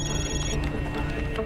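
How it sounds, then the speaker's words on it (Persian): Telephone ringing in a naval command office, steady ring tones running through the short clip at moderate level with no talk over them. "امیر تلفن با شما کار داره."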